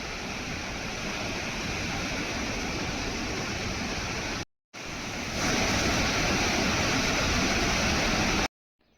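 The Bhama river pours over a Kolhapuri-type weir in a steady, loud, close rushing roar, unbroken apart from a brief cut partway through.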